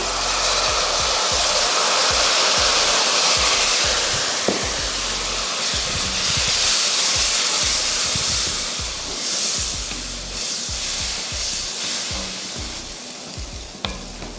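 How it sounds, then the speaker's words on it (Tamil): Tamarind water poured into a hot spice mix for tamarind rice paste hisses and sizzles loudly and continuously close by, with stirring scrapes through the sizzle as it slowly settles. "எலுமிச்சை அளவுக்கு புளி எடுத்து கரைச்சிருக்கேன் அதை சேர்த்துடலாம்"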